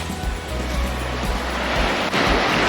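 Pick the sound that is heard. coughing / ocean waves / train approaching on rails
ocean waves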